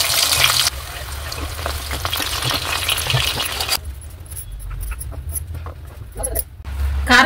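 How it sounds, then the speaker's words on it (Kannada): Chillies and bitter gourd fry in hot oil, a loud, steady crackling sizzle up close, with occasional clinks and a quieter, sputtering stretch midway. "ಇದೆಲ್ಲ ಚೆನ್ನಾಗಿ ಫ್ರೈ ಮಾಡ್ಕೋಬೇಕು."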